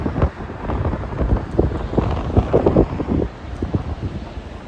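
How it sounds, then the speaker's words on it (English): Strong wind buffets a microphone while walking outdoors, producing loud, gusty rumbling bursts that come and go. "holy fucking wind"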